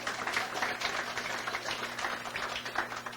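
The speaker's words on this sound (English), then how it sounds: "So I think you all deserve a round of applause as well." An audience applauds with dense, continuous clapping that swells and fades unevenly over a few seconds, fairly close and loud, with a low steady hum beneath.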